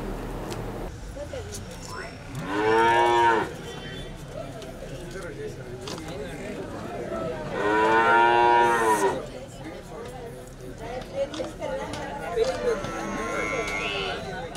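Cattle moo at a farmers' gathering where calves have been brought in, two long, loud lowing calls several seconds apart over steady background chatter and crowd noise.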